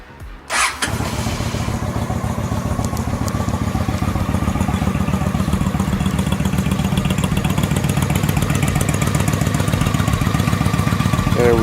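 A 2003 Honda Shadow 750 motorcycle cranks briefly and fires, then settles into a loud, close, steady idle with an even rhythmic thump that runs on without interruption.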